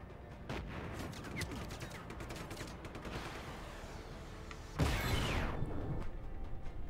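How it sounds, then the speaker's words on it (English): Dense, rapid bursts of gunfire in the video game Just Cause 3, a steady crackle of shots that swells into a louder, heavier blast of fire near the end, with no talking. "Stop shooting me"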